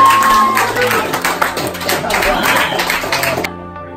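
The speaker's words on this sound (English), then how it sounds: "Let's give her a round of applause." Audience at a stand-up magic show breaking into applause, a steady busy patter of clapping with voices over it that cuts off abruptly near the end.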